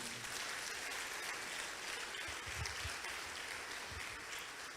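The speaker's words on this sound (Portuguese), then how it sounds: "Quem crê, dá um aplauso bem forte a Ele aí." An evangelical church congregation claps together in a strong, steady burst of applause, a dense, even roar of many hands heard alone throughout.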